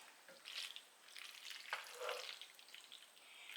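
Pasta noodles being stirred into gravy in a hot skillet, a soft steady sizzle with light scraping stirs, fairly faint and with no talk.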